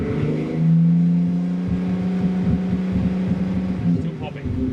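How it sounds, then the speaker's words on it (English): A Toyota Supra JZA80 engine idles roughly with an uneven misfire, popping and backfiring in irregular bursts over a low rumble, close by, with a person talking over it. "Backfiring."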